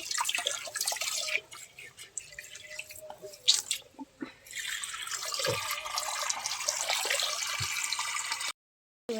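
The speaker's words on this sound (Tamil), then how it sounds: "தண்ணி ஏறிட்டு இருக்கு" Water pouring and dripping steadily into a home fish tank being refilled after cleaning, a continuous splashing trickle with scattered drips, fairly close, ending abruptly before a brief gap.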